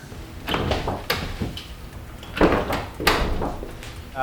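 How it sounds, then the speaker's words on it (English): Driver's door of a Porsche 996 being worked open with a stretched door cable, giving repeated clunks and latch knocks in an irregular rhythm, close and fairly loud, with no talking. "It's got things like a stretched door cable that's causing me to have issues opening the driver's door intermittently, as you can see here."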